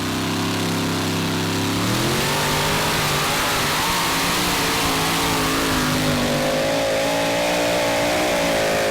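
Loud, continuous engine roar with rising pitch as a twin-engine pulling tractor, engines in line, revs and strains under a 2.5-ton class pull at tractor pulling in Brande, Denmark, droning without pause.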